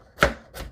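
Carrots are chopped on a board for Jamaican-style creamy carrot juice, with two sharp knife strikes, the first louder than the second, close by and alone.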